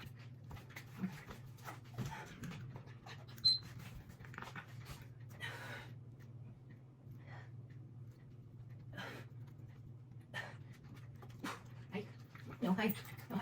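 A small puppy pants and whimpers close by on the floor, soft rapid breaths and brief high whines recurring throughout over a steady low hum.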